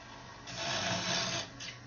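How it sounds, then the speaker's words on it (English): Fine Japanese saw cutting a binding channel in a guitar body, a short faint rasping stroke sequence, close up and alone. "These little fine Japanese saws are wonderful for this."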